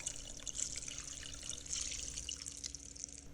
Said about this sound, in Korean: 잘 삶아진 라면은 차가운 물로 헹궈주시고요.